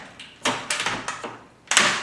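Several sharp metallic clicks and clunks from an Arctic Tern Wildlands door latch being worked open, close and loud with short pauses between the mechanical snaps.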